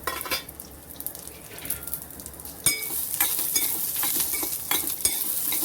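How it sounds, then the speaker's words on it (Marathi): Raw peanuts, peeled garlic and chilies sauté together in a pan for a flaxseed chutney, giving a steady sizzle broken by scraping stirs and the clink of a spoon against metal, which grows louder midway. "मिरची आहे हे सगळं आपल्याला एकत्र परतायचं आहे"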